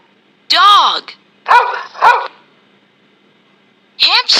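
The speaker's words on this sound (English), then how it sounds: "Dog." A dog barks in several short, sharp bursts, a pair of yelps and then a double bark, separated by silence, loud and close.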